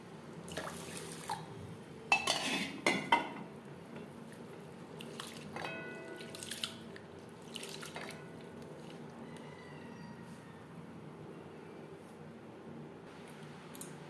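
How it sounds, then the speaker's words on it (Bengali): Masoor lentils are washed in water, with soft splashes, drips and sloshing in a bowl, a few louder clattering bursts early on, then quieter trickling and swishing; no speech. "সবার প্রথমে ডাল বেশ পরিষ্কার করে ধুয়ে নেবেন"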